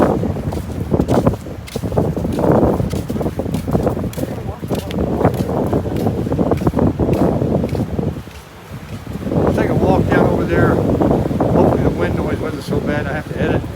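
Gusty wind buffeting a microphone on a chilly day at Boynton Inlet, producing loud low rumbling and rustling that swells and drops, with a brief lull partway through.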